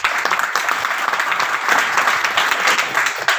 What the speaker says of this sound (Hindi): उनके लिए बहुत जबरदस्त तालियां चाहूंगा।